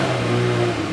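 A 2025 VW Golf R engine revs before a launch, a loud, steady, close-up engine roar that holds for about a second with no other sounds.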